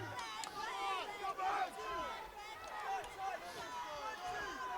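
A crowd roars and cheers during a boxing bout in Swindon, a continuous mass of excited shouting and yelling that swells and dips throughout.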